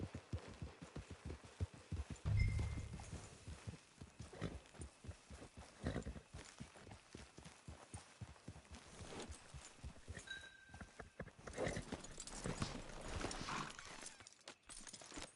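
Horse hooves clip-clop steadily through a PS4 video game scene, a continuous rhythmic trot under ambient game sound and music, with no talking.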